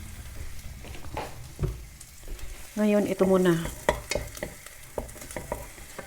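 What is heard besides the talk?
fried rice with garlic and carrots frying in pan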